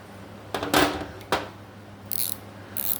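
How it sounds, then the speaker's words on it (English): Mini double-head 72-tooth ratchet wrench clicking through a few quick turns, with sharp mechanical ratcheting bursts and lighter clicks, close up against a steady background hum. "Gears sound fine. Gears actually sound pretty good."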